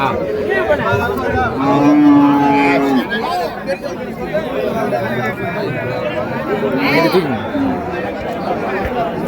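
Jersey cattle at a cow market give loud, drawn-out moos, one long low call near the start and another a few seconds later, over a steady hubbub of crowd chatter and people talking.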